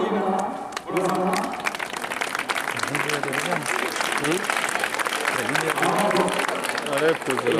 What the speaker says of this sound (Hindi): आप ताली बजाते रहिएगा थोड़ा